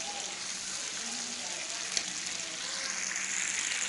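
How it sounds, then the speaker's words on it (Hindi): Tomatoes frying in a pan give a continuous, bright sizzle and hiss throughout, steady and close, growing slightly louder toward the end. "टमाटर जब तक हमारे अच्छे तरीके से गल नहीं जाते, हमने इनको फ्राई कर लेना है।"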